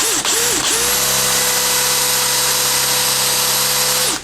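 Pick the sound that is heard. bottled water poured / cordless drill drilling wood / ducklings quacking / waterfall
cordless drill drilling wood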